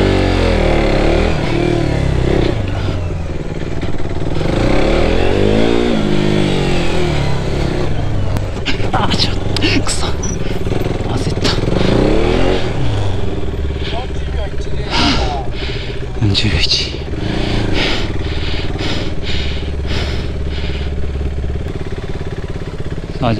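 A motorcycle runs a gymkhana course at a riding school, engine revving and dropping in repeated swells as it brakes and accelerates through turns, loud and close with wind noise, while people talk over it.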